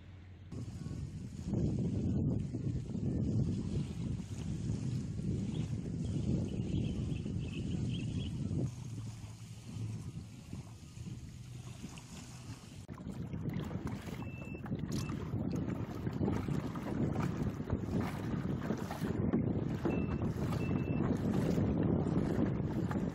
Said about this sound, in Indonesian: Angin dah kuat.